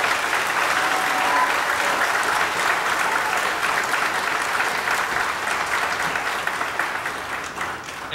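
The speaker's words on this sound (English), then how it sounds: "Let's give them one more round of applause." Sustained applause from a large audience at a class of 2021 high school graduation commencement, steady and dense throughout, tapering slightly at the end.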